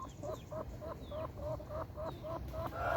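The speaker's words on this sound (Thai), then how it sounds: "ไก่กำลังเริ่มโตครับ" Chickens cluck in quick short bursts through a steady rustling background, the calls coming close and faint in a repeating rhythm. The birds are young and still growing on a backyard fighting-cock farm.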